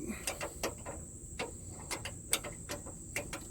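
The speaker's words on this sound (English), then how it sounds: "Take a wrench, these are 5/16." A wrench tightens a nut on a 5/16 bolt on a Ford Interceptor Utility trunk tray, giving a series of quiet, sharp metallic ticks and clicks at irregular intervals, close and faint.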